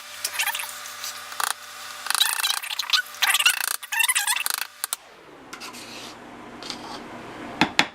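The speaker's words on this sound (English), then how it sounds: "you scrape that clean" A spoon scrapes a plastic cup of Light and Fit Greek yogurt clean with repeated close, rasping strokes in short bursts, then fainter scuffs and a couple of final clinks.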